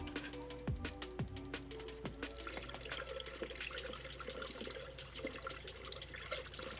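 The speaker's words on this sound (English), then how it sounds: "Got some hose water, because that's the best coolant there is." Hose water runs into an engine cooling system, a steady trickling gush with irregular splashes and drips, faint and fairly close.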